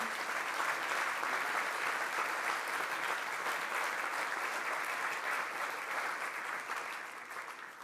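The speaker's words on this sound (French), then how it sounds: "donc on peut applaudir pour ce trophée." A room full of people at an award ceremony applauds steadily, dense clapping that holds strong and then begins to fade near the end.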